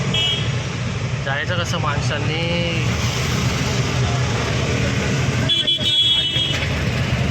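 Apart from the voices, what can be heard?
car horns honking in traffic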